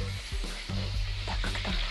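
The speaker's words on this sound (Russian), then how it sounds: "Так, как там наши ребрышки еще обжариваются." Ribs frying in a pan, a steady close sizzle with a few clatters and stirring knocks, no talk over it.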